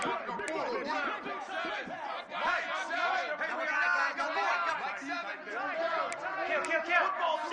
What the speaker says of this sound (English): This crowd is trying to make a difference in this football game and cheering on their defense